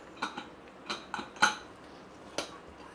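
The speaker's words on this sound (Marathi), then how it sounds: "झाकण काढून घेऊया" A steel pressure cooker lid is lifted off after cooking chicken, making a few sharp metallic clinks and scrapes spaced irregularly, fairly quiet and close, with no talking.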